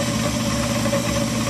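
A KitchenAid stand mixer runs as cookie dough is mixed, giving a steady, even motor hum with a faint rattle that continues unbroken and close by, with no voices.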